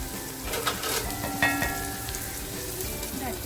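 Spice masala frying in a covered pan for a dry fish curry, with tomato added, gives a steady close sizzle with a few soft stirring clinks, and no voices.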